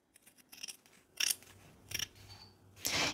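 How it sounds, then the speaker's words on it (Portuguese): Scissors snip through stacked layers of main fabric, interfacing and lining at once, a few short crisp cuts spaced across the moment, close and fairly quiet, with no one speaking. "material principal, estruturador e forro, tudo junto sendo cortado de uma vez só."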